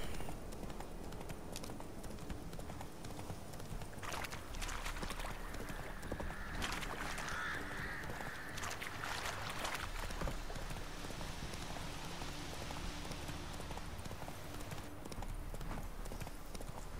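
Steady clip-clop of the horse Roach galloping in The Witcher 3, a continuous rhythmic hoofbeat pattern running throughout at moderate volume, with some swelling ambient wash in the middle.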